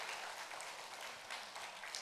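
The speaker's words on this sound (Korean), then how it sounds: "다시 한번 뜨거운 박수 부탁드리겠습니다" Audience applause at a Korean outdoor traditional music performance, a dense steady wash of clapping that fills the whole stretch at even loudness, with no voices over it.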